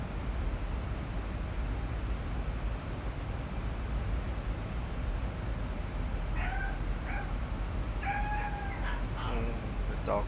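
A cat meows several times in short, faint cries partway through, heard under a steady loud roar of airliner cabin noise aboard a 737-700.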